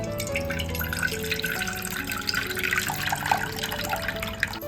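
Dried fish is rinsed by hand in a pot of water, with close splashing, sloshing and dripping going on continuously and no talking.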